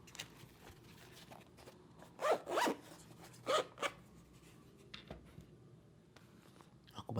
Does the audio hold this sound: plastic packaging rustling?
yes